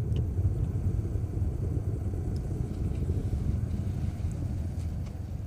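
SpaceX Falcon 9 first stage with its nine Merlin engines roaring in flight during the CRS-12 launch, a steady, dense low rumble with wind-like buffeting that holds unbroken and loud throughout.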